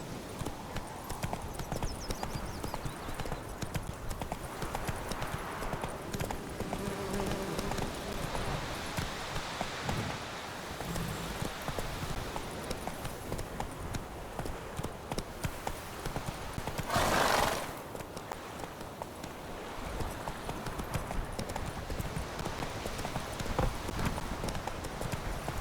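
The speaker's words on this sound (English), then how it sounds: "Run, Roach." A horse gallops in The Witcher 3 video game, rapid rhythmic hoofbeats clip-clopping steadily and close for the whole stretch, with a brief whinny partway through.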